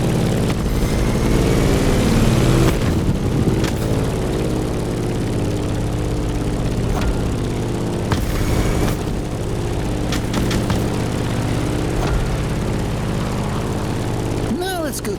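Propeller plane engine in the racing game The Crew Motorfest, a steady droning hum with a low rumble that runs the whole time, loud and close, with no clear break.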